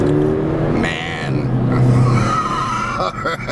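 A 2009 Mercedes-Benz SL 550 AMG Sport R230 with a V8 pulls away at about quarter throttle, its engine note rising steadily and close, with someone talking over it for most of the stretch.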